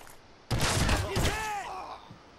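A single loud revolver shot in Black Ops cracks abruptly after a quiet moment, followed by a ringing, wavering tail that slowly fades.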